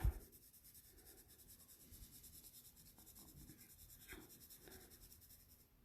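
An ordinary, non-professional pencil shades on paper with soft, steady, close scratching strokes, faint and continuous, with no voice.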